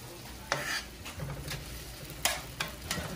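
Shrimp and seasoning frying together in a pan for Jamaican-style seasoned rice, a steady soft sizzle broken by a few sharp stirring clinks and scrapes, close and unvoiced.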